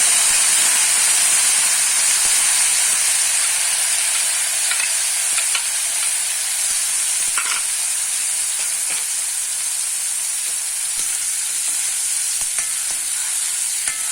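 Chopped tomato with a pinch of asafoetida and turmeric frying in a pan, giving a steady, loud, close sizzle and hiss that runs unbroken with no talking.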